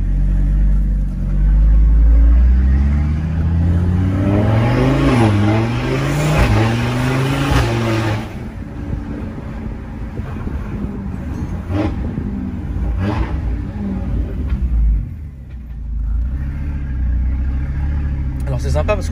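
A lowered car with a front lip spoiler revs hard with a rising, wavering engine roar, then drops away into a rumbling idle as the turbo spools down. People talk over parts of it.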